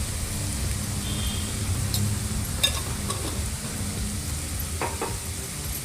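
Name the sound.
palak paneer masala with tomato frying in pan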